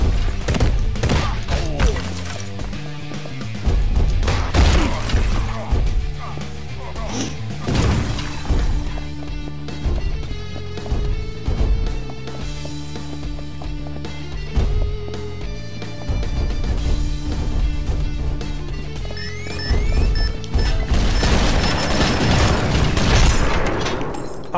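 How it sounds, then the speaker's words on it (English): Grenade explosions in the top-down action game Mr. Shifty: several heavy booms and crashing bursts land amid dense, continuous game music and effects, loud and close throughout. "Oh no, there's grenades."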